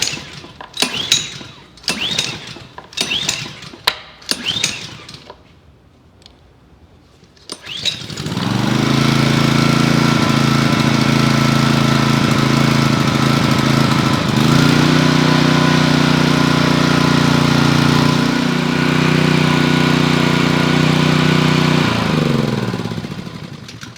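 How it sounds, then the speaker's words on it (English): A few sharp pull-cord rattles, a pause, then a Honda GCV pressure washer engine sputters to life and runs steadily and loudly with a slight dip partway through. "So we'll give it one pull. Hopefully she starts."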